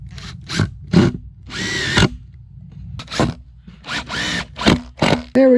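A power drill drives screws through small pipe hoops into a wooden garden bed, whirring in a series of short, close bursts of varied length separated by brief pauses.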